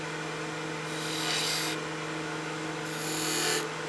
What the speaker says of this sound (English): We'll use my skew now and just put a couple V-grooves in